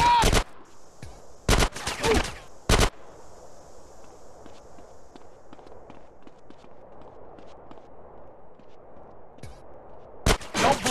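Sniper rifle fire in the video game Grand Theft Auto San Andreas: a few loud sharp cracks near the start and again at the end, separated by a long stretch of low ambient game noise, with a brief shout.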